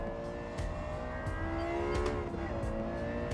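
Engine of a limited Nürburgring-edition road car, one of 50 built, braking down into Spoon curve in Gran Turismo 7, a steady, close, droning note with harmonic whine and slight pitch shifts, no talking.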